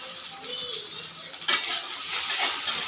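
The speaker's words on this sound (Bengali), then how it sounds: "পেঁয়াজগুলোকে আমি ভেজে নেব ভালো করে" Onions frying in a pan, a soft hiss that jumps louder halfway through as the pan is stirred, with light clinks of utensils.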